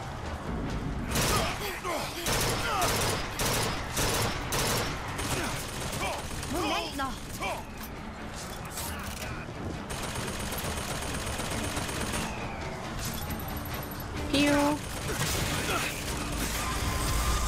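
Gunfire aimed at the player in the video game BioShock Infinite, with repeated shots and bursts over clanking mechanical sounds and continuous in-game noise across the stretch.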